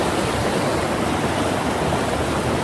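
Spring creek water rushing hard upstream, a steady loud broadband roar with no break, close and alone without voices.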